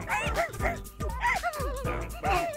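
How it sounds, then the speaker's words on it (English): A monster in the My Singing Monsters video game gives a string of yappy, dog-like barks and yips, about six rhythmic calls in quick succession, moderately loud and without talk. "Kind of sounds like a dog, guys."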